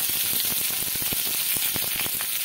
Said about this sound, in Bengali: এভাবে মিডিয়াম টু লো ফ্লেমে রেখে পেঁয়াজটাকে আমি এখন ভালোভাবে ভেজে নেব।